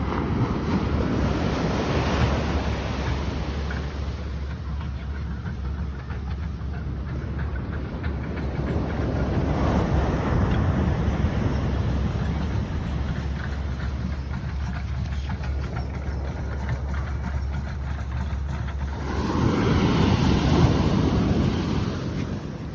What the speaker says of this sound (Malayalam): ഇതെവിടെ സ്ഥലം? സ്ഥലം കടൽ.